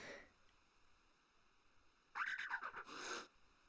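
A Pokémon cry from the video game Pokémon Eclipse plays as a short chirp followed by a longer raspy hiss, faint overall and heard alone without talk.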